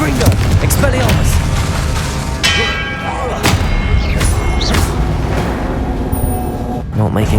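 Confringo spell casts in the Hogwarts Legacy video game set off repeated booming explosions and ringing, bell-like tones in a busy, loud combat mix, with a voice talking over much of it.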